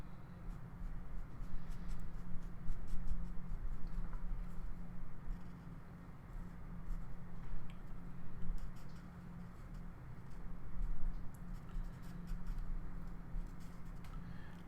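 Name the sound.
pencil sketching on paper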